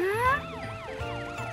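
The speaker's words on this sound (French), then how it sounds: "Ce sont d'autres sirènes?" Cartoon emergency vehicle sirens wail in a rising then looping up-and-down pattern, continuous and moderately loud, with engine hum underneath.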